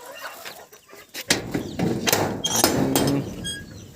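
Free-ranging chickens clucking on a farm, a scatter of sharp clucks and squawks after a thump, close and fairly loud with no one talking.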